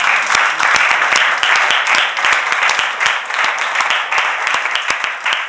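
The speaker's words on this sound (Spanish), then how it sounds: "aplaudir al Ayuntamiento de Fuenlabrada" Audience applause fills a press conference for an international choreography and gender event, loud and close with sharp individual claps punctuating a continuous dense wash throughout.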